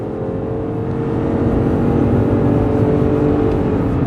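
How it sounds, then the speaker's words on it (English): A 2025 Ford Escape plug-in hybrid SUV accelerates at full throttle, its engine drone rising and holding loud and steady from inside the cabin with tire and road roar beneath, no talking. "Pedal to the metal."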